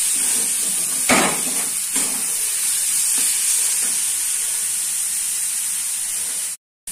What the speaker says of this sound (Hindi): अब हमारा तड़का फ्राई हो गया अच्छे से